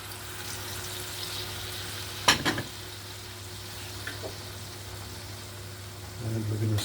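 Grapefruit flesh goes into a pan of reduced sauce and gives a soft, steady sizzle over a low hum, with a brief clatter partway through and a slight swell near the end.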